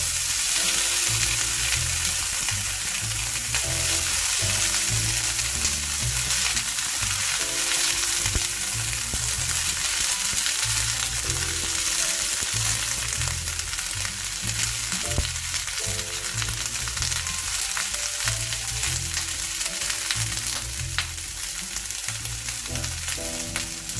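Washed cauliflower frying in a pan for a home-style gobi dish, a loud, continuous sizzle and crackle that holds steady for the whole stretch with no talking.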